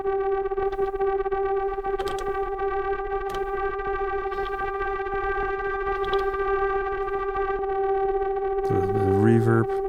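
Elektron Syntakt with its overdrive pushed, a steady droning synth tone with sharp transient ticks through it, ending in a louder, more heavily driven burst; close and continuous.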